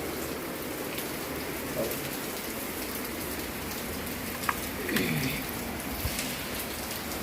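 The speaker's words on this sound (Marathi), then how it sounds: "इथे मस्त असा पडते पाऊस पाहू शकता पावसाचा आवाज येतो की नाही" Steady rain falls throughout as a dense, even hiss, with a few brief thumps and faint sounds in the background.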